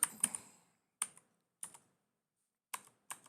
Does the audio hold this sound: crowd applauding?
no